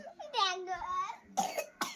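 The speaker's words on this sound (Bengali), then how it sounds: "ও কাশি হচ্ছে কাশি" A little girl coughs several times in short bursts, close and fairly loud, with a voice talking around the coughs.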